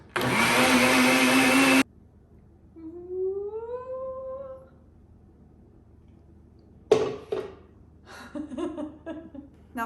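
A blender whizzes oat milk and chopped ripe banana in a loud, steady burst that cuts off abruptly after a couple of seconds, followed by quieter kitchen noises and clatter.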